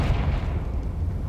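A Confringo fire-blast spell explodes in the Hogwarts Legacy video game, a loud, dense, low rumbling boom that fills the moment without any voice.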